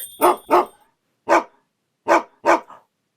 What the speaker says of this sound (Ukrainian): Я чую собаку.